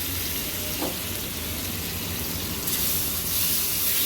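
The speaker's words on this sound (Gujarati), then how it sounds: "તો હવે આપણું ઘી આવી ગયું છે. આપણે મેરિનેટ કરેલું પનીર એડ કરી દઈશું." Marinated paneer frying in hot ghee, a steady broadband sizzle that holds even throughout and swells a little louder near the end, with no voices over it.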